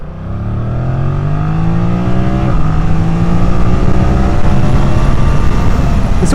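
A 2025 Yamaha MT-07 motorcycle with an automatic gearbox winding up through the revs, its engine note climbing steadily and loud and close, with a throaty rising drone that holds strong to the end.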